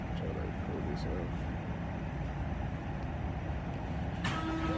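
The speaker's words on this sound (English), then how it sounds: "This train empty as hell, boy." Inside a riding train car, a continuous loud rumble of wheels and motion noise throughout, with a brief sharp squeal or clank near the end.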